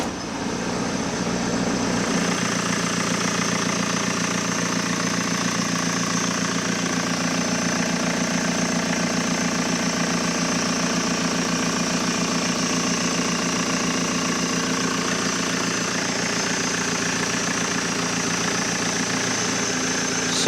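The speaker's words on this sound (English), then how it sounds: "let's get the engine fired up and let's see if we have excessive leak back" A supercar engine idling during an injector leak-back test, starting up then holding a loud, steady idle with even vibration throughout.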